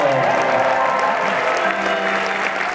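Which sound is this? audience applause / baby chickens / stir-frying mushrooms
audience applause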